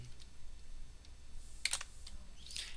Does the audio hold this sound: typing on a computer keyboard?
yes